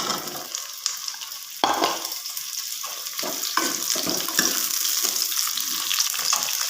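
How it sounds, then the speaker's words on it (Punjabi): Okra frying in hot oil, a steady close sizzle with stirring scrapes and occasional watery clatter throughout, with no one talking. "ਹੁਣ ਆਪਾਂ ਤੇਲ ਦੇ ਵਿੱਚ ਜੀ ਭਿੰਡੀਆਂ ਫਰਾਈ ਕਰਾਂਗੇ"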